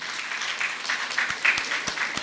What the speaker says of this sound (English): Can we have all gents clapping for them?